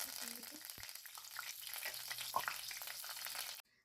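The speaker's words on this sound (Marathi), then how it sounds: "जिरे मोहरी छानशी तडतडली" Cumin and mustard seeds spluttering in hot oil in a kadhai, a bright crackling sizzle with scattered pops close by that cuts off abruptly at the end.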